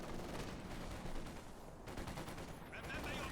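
Machine gun fire in a real-time strategy video game battle, with rapid distant bursts rattling over a busy mix of battle noise and a quiet voice.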